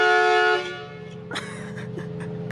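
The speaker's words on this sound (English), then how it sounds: "the train horn." A train horn fitted on a car blasts loudly, a multi-tone chord that sounds, breaks off and returns in several short bursts nearby.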